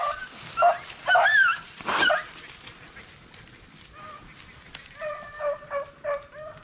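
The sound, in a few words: hunting dogs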